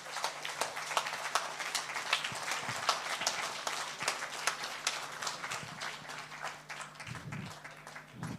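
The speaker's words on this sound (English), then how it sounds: "A big round of applause to our Honorable Chief Guest." Audience applause for the chief guest at a BSNL Bharat Fibre Championship League felicitation event, a steady patter of many hands clapping throughout.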